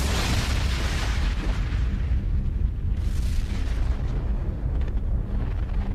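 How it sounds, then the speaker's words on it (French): A deep, rumbling explosion effect standing for a giant star blowing apart in a supernova, a dense, continuous roar with low booming surges that holds steady and loud for the whole six seconds. "un trou noir est le cadavre d'une étoile géante qui a explosé en supernova"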